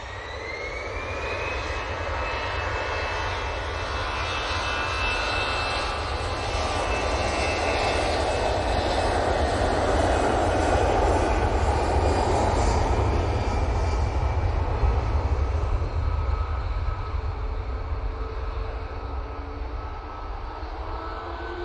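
An easyJet jet airliner taking off from Manchester Airport for Tivat gives a loud, sustained engine roar with rising whine tones, building and holding steady before easing slightly toward the end.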